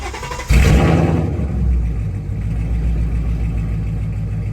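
A car engine cranks and catches with a loud burst, then settles into a steady, low, rumbling idle close by.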